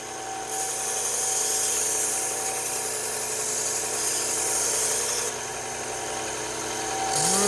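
A belt grinder fitted with a brand-new belt cuts a fresh bevel, giving a loud, steady abrasive whine that runs continuously and dips slightly in intensity partway through before swelling again.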